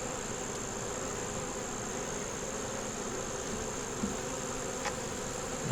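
Honeybees buzz steadily at a hive, a dense continuous drone with a high thin tone above it, close and even throughout, with a couple of faint clicks and no talking.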